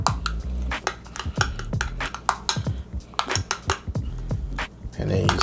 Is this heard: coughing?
no